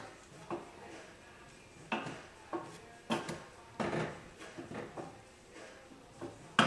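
Sauce with sugar and dried fruit being stirred around a pan, heard as scattered scraping and knocking of a utensil against cookware in irregular bursts, fairly quiet and close with no talking.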